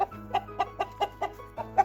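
A rooster clucks repeatedly in short, evenly spaced calls, fairly close, over a low steady hum.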